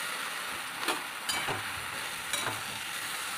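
Sattu fries in a pan with ridge gourd and potato, giving a soft, steady sizzle with a few brief stirring scrapes, close and quiet, no talking.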